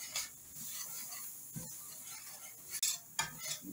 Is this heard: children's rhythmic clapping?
no